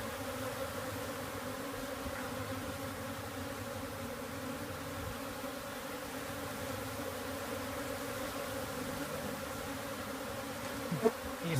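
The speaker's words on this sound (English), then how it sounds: "That is a huge swarm of bees." A large swarm of honey bees during a live removal makes a dense, continuous buzzing drone that stays steady throughout, close and enveloping, with a faint knock near the end.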